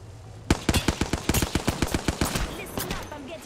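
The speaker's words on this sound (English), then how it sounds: "Listen up, I'm getting shot at." Rapid automatic gunfire in the battle royale game Apex Legends, a close, loud string of evenly spaced shots lasting a few seconds before trailing off, with a player's voice faintly underneath.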